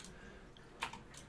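Brief, faint tapping on a computer keyboard as a path is typed into Windows File Explorer, a few soft clicks alone in a quiet room.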